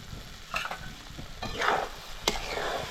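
Mango semolina sheera being stirred and roasted in a kadhai: a low steady sizzle with scraping spoon strokes against the pan, close and moderately quiet.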